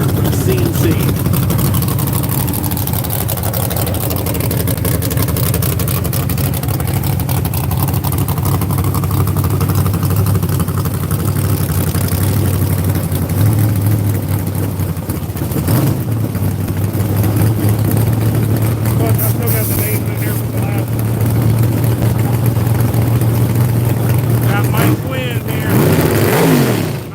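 A Trans Am 481 race car, the 1972 Punisher sponsored by CNC, idles with a steady low engine rumble throughout, under someone talking over it at a woodland race event.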